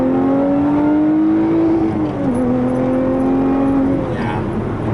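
A 2017 Lotus Evora 400 accelerating, its engine note droning steadily and rising in pitch, dipping once at a gear change before climbing again, loud and close from inside the cabin.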